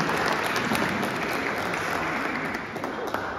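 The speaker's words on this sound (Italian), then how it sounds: "Qui alla mia sinistra dedichiamo un grande applauso." Steady applause from a crowd at a book presentation press conference, dense and continuous, fading slightly toward the end.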